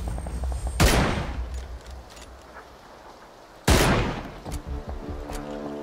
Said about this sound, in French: Ça tire sur la droite.